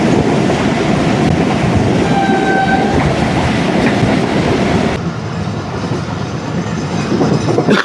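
The 18DN Millat Express passenger train in Sindh runs on its rails near Nawabshah railway station, a loud, close, continuous rumble of wheels and carriages with faint squealing tones, and the noise drops a little partway through.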